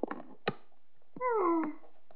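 A cat gives a single drawn-out, rising-then-falling meow, close and clear, surrounded by a few soft clicks and rustles.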